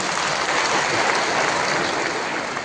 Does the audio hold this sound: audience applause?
yes